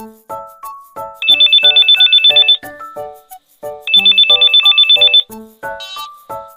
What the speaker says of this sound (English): Listen to Brad's phone call